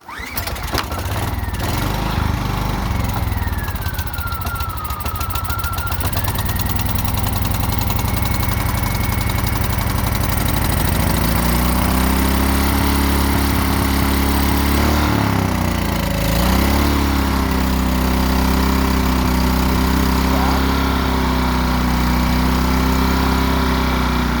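A small Predator 2000 generator engine drones steadily and loudly throughout, its pitch settling into an even economy-mode idle after a rougher start.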